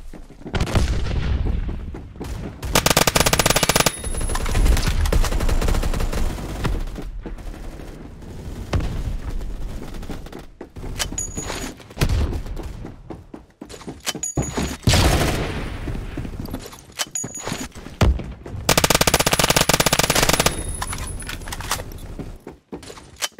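Colt SMG 633 gunfire in the video game Phantom Forces, with loud bursts of rapid automatic shots in several long strings separated by brief pauses.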